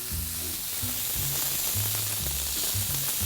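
Beef spider steak sears in a pan over high induction heat, a loud, steady close-up sizzle with a constant hiss and no voices.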